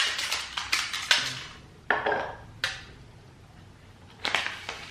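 A knife cuts through a milk chocolate caramel filled with marshmallow and almond, sitting in a tray of Chuao Chocolatier Joy-Filled Caramels. Several close, sharp clicks and scraping taps arrive in uneven bursts, with quieter gaps between them and no talking.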